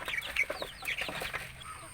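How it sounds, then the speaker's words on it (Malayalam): Brooding country hens that have just hatched their eggs cluck in short, repeated bursts nearby, with light rustling between calls. "ഇത് ഞങ്ങൾ അട തുറന്ന കോഴികളാണ്"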